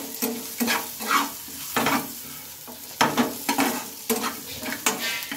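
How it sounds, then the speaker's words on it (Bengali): A spoon stirs a bread fry mixture with salt and turmeric in a sizzling pan, giving repeated scraping and clinking strokes over a continuous close frying hiss. "দিয়ে একটু ভালোভাবে এগুলোকে আবারও আমি নেড়ে চেড়ে নিচ্ছি"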